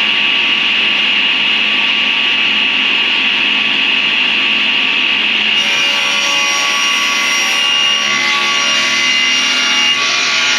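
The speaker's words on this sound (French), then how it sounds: "on redécoupe les deux planches à 55 de large pour faire les deux côtés" A power saw rips through wooden boards being cut to width for the sides of a storage build in a mobile workshop van, a loud continuous whine that shifts pitch partway through as the blade bites, with no talking.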